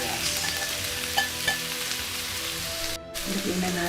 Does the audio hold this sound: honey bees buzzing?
no